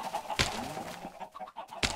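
Chickens in the video game Minecraft cluck and squawk nearby in short bursts, with two sharp broadband clicks and a few brief gaps between the calls.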